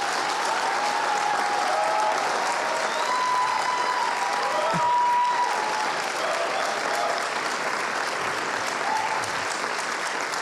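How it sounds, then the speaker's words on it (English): An audience gives a long, resounding round of applause for a woman at a professional development event. The clapping is dense and sustained, with scattered cheers and voices mixed in throughout. "resounding round of applause to this incredible woman"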